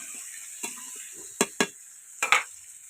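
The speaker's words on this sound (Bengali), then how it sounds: "দেখুন, আর এই দেখো হালকা করে ভেজে নিচ্ছি" Food being lightly fried in a pan, with a faint sizzle under a few sharp spatula clinks and scrapes against the pan, spaced irregularly and close.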